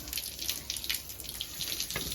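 Tap water pours steadily for bathing, a continuous close hiss and splash with no voices.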